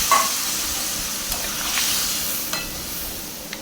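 Vegetables in a covered pot of water, softening after being fried with spices, give a steady, close hiss and gentle bubbling with a few faint clinks.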